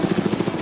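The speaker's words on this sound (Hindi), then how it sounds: "ये हेलीकॉप्टर हमारे बॉयज को ऊपर हवा में ले जाएगा" A helicopter's rotor beats in a fast, steady chop, about seven pulses in under a second, heard close and on its own over a private island.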